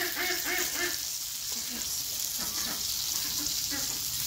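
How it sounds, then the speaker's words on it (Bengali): Koi fish frying in a pan, a steady loud sizzle running throughout with a few brief tonal sounds in the first second and a half. "এখানে আমি কস মাছ ভেজে নিতেছি।"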